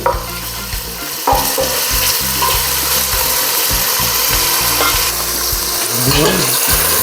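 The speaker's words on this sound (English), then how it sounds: "chorizo in the pan and just give it a chance to cook and give some of its flavor to the pan" Chorizo cooking in a pan for arroz con gandules, a loud, close, continuous sizzle of fat frying with occasional clatters and shifts of the pan, no speech over it.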